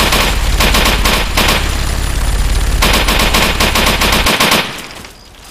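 Sustained automatic gunfire from a Fallout 3 firefight, loud and continuous rapid bursts with brief gaps, tailing off to quieter background near the end.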